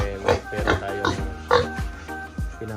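Several pigs oinking and grunting close by in a pen, a rapid irregular run of short nasal grunts and squeals at moderate loudness, with no talk over them.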